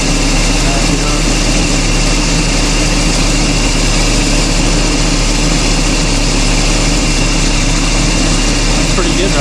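A Toyota 20R engine fitted with a MaXpeedingrods 22R carburetor idles steadily and loudly close by, a constant even hum throughout with no change in pace.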